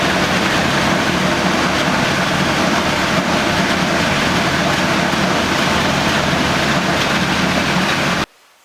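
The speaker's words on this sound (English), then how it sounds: "She idles now." A car engine fitted with an Edelbrock carburetor idles steadily, a dense continuous rumble close and loud for about eight seconds before cutting off abruptly.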